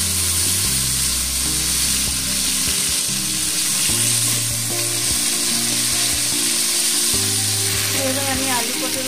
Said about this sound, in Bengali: এবার আমি আলু পটলগুলো একসঙ্গে ভালো করে ভেজে নেব